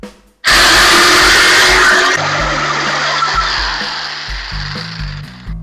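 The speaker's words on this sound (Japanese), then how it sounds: "それではカットしていきます。" A power tool cuts material for a car interior DIY job, starting abruptly with a loud high whine that eases to a steadier grinding drone, with pitch shifts as the load varies, and no talking.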